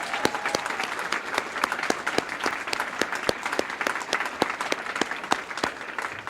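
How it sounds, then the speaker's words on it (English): An audience claps steadily at a live Kid Governor announcement in Connecticut, dense continuous applause with sharp individual claps standing out, fairly near and even in loudness. "Let's give them a round of applause."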